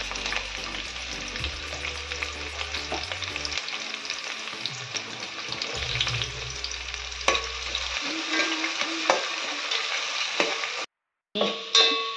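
Bay leaves frying in hot oil at the start of a chicken recipe, giving a continuous loud sizzle and crackle with occasional stirring, briefly cutting out near the end.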